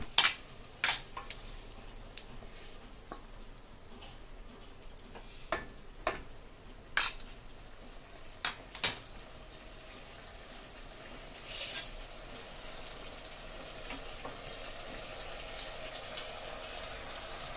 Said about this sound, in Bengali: বাটি ধোয়া জলটাও দিয়ে দিলাম।